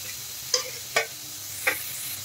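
Carrots, capsicum and sweet corn being stirred in a hot pan over a high flame for sweet corn momo filling, with a quiet sizzle and three sharp utensil scrapes or clinks spaced across a couple of seconds, no talking.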